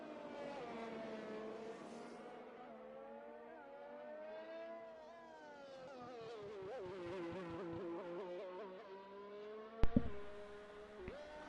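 Race cars lapping in an F1-style racing video game at the Netherlands circuit, engines whining at high revs with gear shifts and rising pitch, steady and loud, with a sharp impact near the end.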